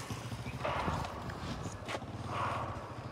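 A horse's hooves clip-clop steadily on a road beside a motorbike ride, close by and fairly loud over constant outdoor traffic and wind noise, with no one speaking.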